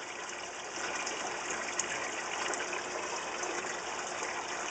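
Steady rushing water gushes and churns continuously through an aquarium overflow, a dense hissing flow with faint bubbling from air bubbles throughout.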